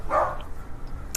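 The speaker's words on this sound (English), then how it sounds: "Y'all gotta excuse the dogs barking." Dogs bark once or twice near the start, a short, fairly loud burst that trails off into quiet background noise.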